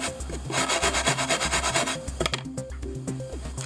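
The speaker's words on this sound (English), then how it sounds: "just take the sandpaper and go up against that nail and clean it up" Sandpaper rubbed back and forth against a bulging edge of polycarbonate plastic in a home workshop, a loud, close, steady rasping in rhythmic strokes with no talking.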